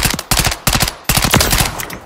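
Rapid automatic gunfire in the Call of Duty video game, a loud close-up burst of quick repeated shots with brief breaks between strings.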